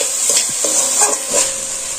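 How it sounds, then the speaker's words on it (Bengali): Boiled potatoes being pushed aside with a spatula in a hot pan, a few short scraping strokes over a faint steady sizzle, close and moderately loud. "আমি আলুটাকে এইভাবে একটু সরিয়ে দিচ্ছি"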